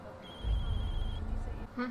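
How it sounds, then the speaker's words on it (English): A telephone rings in a tense scene, with a steady high tone running through the first part and a brief burst near the end, heard over low rumbling background and some voices. "Answer your phone."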